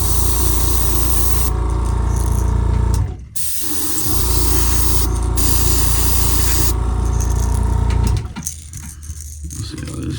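Steady, loud hiss of an airbrush spraying a base coat of paint onto a crankbait fishing lure, running continuously with two brief pauses.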